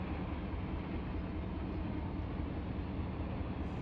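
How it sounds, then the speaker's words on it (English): A steady, unbroken rumble of a train rolling through a rail yard in the Run 8 train simulator, dense and constant with no clear peaks. "Oh, that train's going to LAC."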